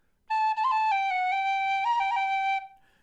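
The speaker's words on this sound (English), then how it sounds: "my Wild Irish High D, my High D whistle. That's how I play that." A Wild Irish High D tin whistle plays a short phrase of a few sustained, clear, airy notes stepping between pitches, close and fairly loud, alone with no talking.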